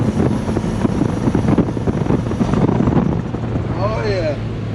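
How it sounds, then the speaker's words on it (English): Toyota MR2 turbo engine spooling up from inside the car, a steady broadband drone with intake rushing, and a rising whistle that climbs and curves near the end. "Right in the back, as we're spooling up, it sounds like a turbine engine."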